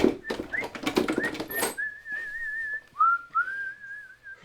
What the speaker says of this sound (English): I was whistling as I climbed up the stairs and opened the door.